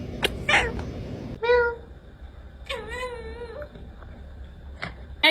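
A house cat meows twice, one short cry and then a longer wavering one, close and fairly loud, among a few soft knocks and rustles in a quiet room.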